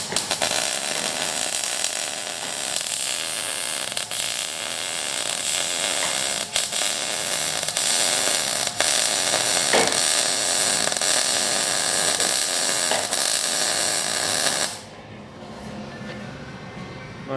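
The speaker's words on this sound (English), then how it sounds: "Doing another through the lens weld." Welding in a garage: a steady, loud, crackling buzz runs continuously for about fifteen seconds with small pops, then cuts off abruptly, leaving quieter background noise.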